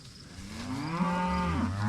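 Cattle in a pasture low near and loud, including bull calves, mooing in one long drawn-out call that rises and falls, with no talk over it.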